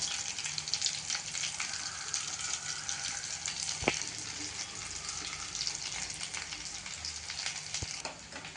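Oats and vegetable cutlets shallow-frying in oil in a pan: a steady, close, hissing sizzle runs throughout, with a couple of faint clicks from turning, and no voices.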